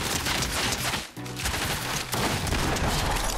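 A turret in Fortnite fires a dense, rapid barrage of loud automatic shots from close by, broken by a brief pause about a third of the way through before the continuous fire resumes.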